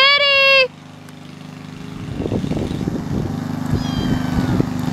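A cat gives a single clear, fairly loud meow at the start, then faint rustling and indistinct background sounds follow indoors.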